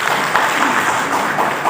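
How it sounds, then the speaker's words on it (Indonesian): A church congregation applauding, with steady, dense clapping from many hands throughout a short burst. "Tepuk tangan buat Tuhan."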